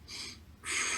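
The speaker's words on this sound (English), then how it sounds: "So like deep breaths in and out." Deep breaths drawn in and then pushed out, two long airy rushes of breath close to the mic with a brief pause between them, no talking.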